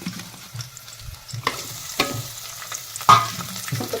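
Tomatoes tossed into a pan of deep-fried onions for spiced potato masale bhat, stirred with repeated spoon scrapes over a steady close sizzle.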